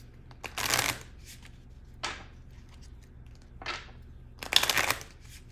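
Tarot cards are shuffled and drawn in four brief, crisp riffling bursts, close by and quiet, separated by near silence.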